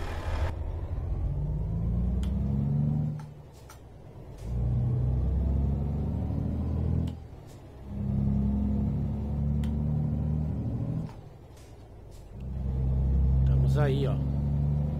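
A Scania truck engine rumbles in a truck-driving video game, a low idle and throttle drone rising and falling in several separate bursts with gaps between them, while someone talks over it.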